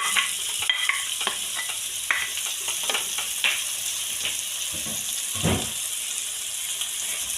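Onion frying in hot oil for cauliflower gravy, a close, continuous sizzle with occasional stirring scrapes and clinks, with no voices.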